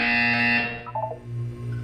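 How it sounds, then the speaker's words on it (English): A loud electronic buzzer in the video game Portal 2 sounds once, a harsh steady tone lasting about half a second, followed by softer fading tones with no talking. "You will hear a buzzer."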